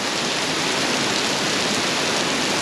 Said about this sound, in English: I'd say it's raining. Pouring.